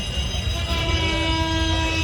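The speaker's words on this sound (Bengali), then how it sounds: "দাঁড়িয়ে আছি রেল গেটের কাছে এখন ট্রেন আসবে" A train approaches a railway level crossing with a continuous, fairly loud rolling rumble and a sustained horn tone held through the middle, with no voices.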